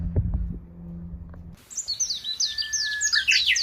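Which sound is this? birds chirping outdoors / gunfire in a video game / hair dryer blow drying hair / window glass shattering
birds chirping outdoors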